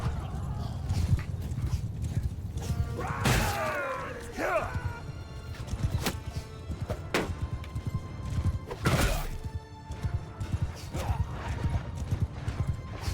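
Cavalry horses charging in the video game Bannerlord, a dense rumble of galloping hooves with occasional whinnies and impact thuds, a battle din under a speaking voice.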